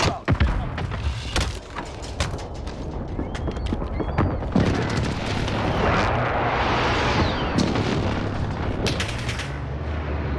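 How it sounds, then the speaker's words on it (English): Booming explosions from an enemy precision airstrike in a video game, heavy thuds and blasts stacking into a dense, rumbling barrage with sharp impacts throughout. "Enemy precision airstrike inbound."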